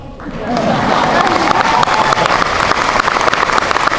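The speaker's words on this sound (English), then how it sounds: "Yeah, that's worth applauding." Audience applause rising after a presidential speech on gas prices, swelling within the first half second into sustained clapping mixed with crowd murmur and some cheers.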